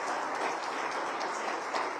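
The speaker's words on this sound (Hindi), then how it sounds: "मैं चाहूँगा एक बार आप लोग खड़े होके उन परिवारों की तरफ देख के ताली बजाएं" Audience in a hall applauding, dense continuous clapping at an even level throughout without pause.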